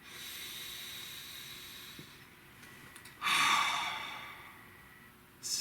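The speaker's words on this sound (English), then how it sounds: "So nice deep breath." A single slow, audible inhale followed by a soft breathy exhale, close and quiet against faint background hiss.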